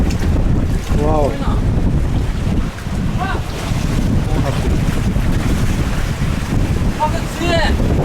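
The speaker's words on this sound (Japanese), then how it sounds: "めっちゃ爆風プラス白波やば" Strong gusting wind blasts across the microphone on a rocky island coast with whitecapped surf, a loud continuous roar with surging peaks and a few brief voice-like squeals, no clear talk.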